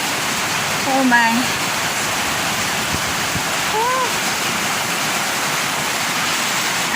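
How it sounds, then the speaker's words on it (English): Heavy rain pours down on a farm in the Philippines as a dense, steady hiss that fills the whole stretch, close and loud, with a person briefly exclaiming over it. "Look, the rain is getting heavy, but it's nice, it's cooler."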